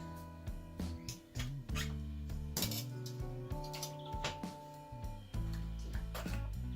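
A metal teaspoon levers a bicycle tyre off its rim while a puncture is repaired, making a series of small metallic clinks and clicks. A steady tonal hum runs underneath, with no talk.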